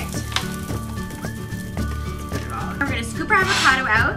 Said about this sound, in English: my almonds are kind of sizzling here